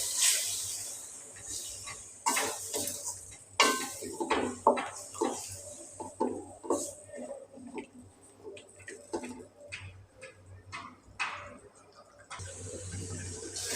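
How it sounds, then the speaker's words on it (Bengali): Spice masala for khichuri is sautéed in a pot with intermittent spatula scrapes and stirring bursts over a faint hiss, separated by quiet gaps. "মশলাটা আমি ভালোভাবে কষিয়ে নিলাম"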